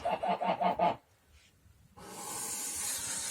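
Broody Turkish geese kept on eggs give a quick run of about five loud, close nasal honks, then a pause, then a long breathy hiss that holds to the end.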